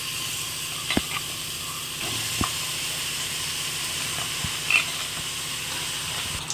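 Onions fry in a pan with turmeric and pepper powder for a country-style native chicken sambar, a steady moderate hiss with a few sharp clicks and pops scattered through it.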